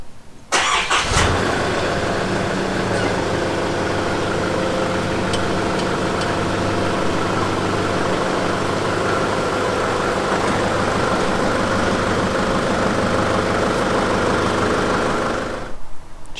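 A Nissan GU Patrol started up and idling steadily as it reverses out of a carport, a continuous loud mid-range engine rumble running unbroken for about fifteen seconds.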